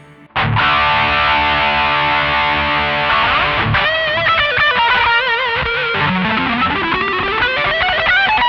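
Distorted electric guitar through a Laney amp and pedal board: a loud sustained chord rings out, then boosted, saturated lead notes bend and slide, dense and up front.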